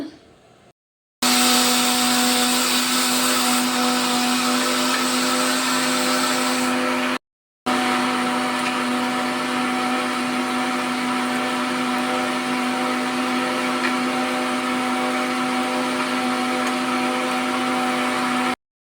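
An electric mixer grinder whirs loudly and steadily as it grinds a turmeric spice paste with water for a Mangalorean cucumber and ivy gourd huli. It runs in two long bursts separated by a brief stop.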